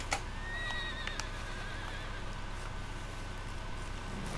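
A horse whinnies once near the start in the video game Red Dead Redemption 2, a high wavering neigh fading out over steady background hum and ambient noise.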